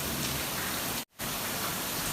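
Steady, hissing rainfall pours down evenly and fairly close, a dense wash of sound broken by one brief gap in the middle, with no voices.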